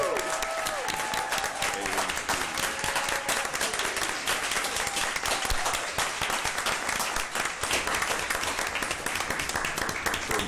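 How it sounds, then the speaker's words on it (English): A room full of people at a school board meeting gives a round of applause honoring several schools, continuous dense clapping at steady moderate loudness for about ten seconds, with a few faint voices early on. "Let's give a big round of applause."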